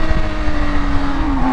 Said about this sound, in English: So let's do a little bit of aggressive riding here and see exactly what kind of feedback I get from this bike